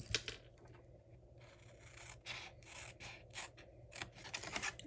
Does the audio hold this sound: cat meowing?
no